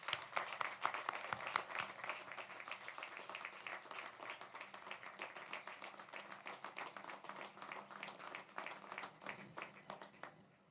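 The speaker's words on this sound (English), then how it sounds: "can we please give a nice round of applause to your children, the graduates of 2021?" Parents and guests at a school graduation ceremony applaud the graduating class in a sustained round of dense clapping that gradually thins and fades toward the end.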